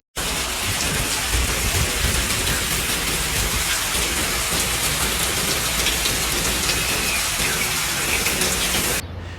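Heavy rain pours steadily during a flooding storm in Monmouth County, New Jersey, a dense, loud, unbroken roar of downpour lasting throughout, with no voices.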